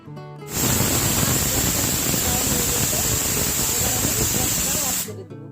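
A pressure cooker cooking red lentil (masoor) dal with tomato vents steam in one loud, steady hiss that starts abruptly, holds for about four and a half seconds, then cuts off.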